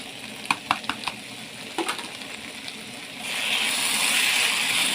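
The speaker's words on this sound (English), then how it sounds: "And I will stir it nicely to mix with the liver" Beef liver frying in a pan while coriander is stirred through it: a few scraping utensil clicks early on, then a steady, loud sizzle.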